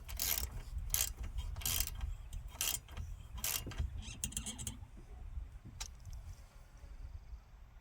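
A small mini ratchet turning screws on a treadmill's plastic shroud, giving close rapid clicking bursts in short runs over a low rumbling background, then quieter with a single late click.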